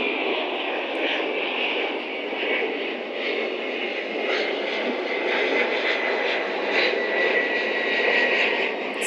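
A propeller or jet airplane passes overhead in a steady, loud broadband roar that swells and fades slightly throughout, with seagulls around and no talking.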